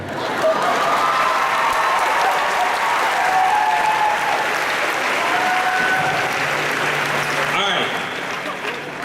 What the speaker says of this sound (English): Perhaps if we all put our hands together and clap, we'll make him feel better.